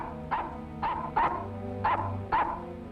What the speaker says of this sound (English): What the dickens are you barking at?